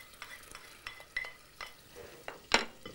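Chopped medium onion sizzling in melted butter in a saucepan, with soft crackling and a series of spoon stirs and scrapes, one sharper clatter near the end, quiet and close with no talking.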